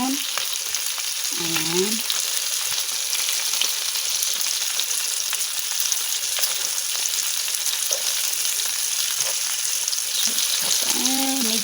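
Salmon in garlic butter and oil sizzles loudly and continuously in a pan, with occasional stirring scrapes and someone speaking briefly over the frying.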